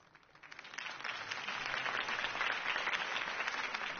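A crowd in a Batman video game scene breaks into applause after Harvey Dent's campaign speech, a dense, even patter of many hands that swells in and holds steady, somewhat distant and muffled.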